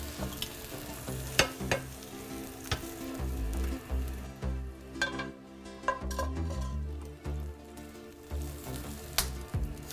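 Eggs frying in a pan for breakfast, a steady sizzle beneath repeated clinks and scrapes of a utensil against the pan, close and fairly loud with no voices.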